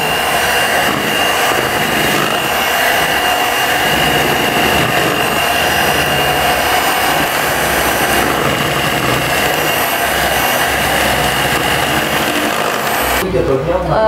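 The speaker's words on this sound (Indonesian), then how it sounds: "Lalu kita mixer kembali sampai coklat dan telur tercampur rata." An electric mixer beats chocolate and eggs into cake batter, giving a loud, steady whirring drone that runs almost the whole time before cutting off near the end.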